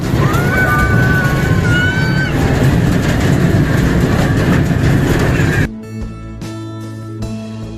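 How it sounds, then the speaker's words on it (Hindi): An amusement park ride train at a picnic resort near Delhi runs loudly with steady rumbling and rattling, then cuts to a quieter scene with a steady hum. "अब ये लोग जा रहे हैं ट्रेन की राइड करने के लिए।"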